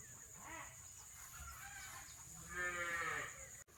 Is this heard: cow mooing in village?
yes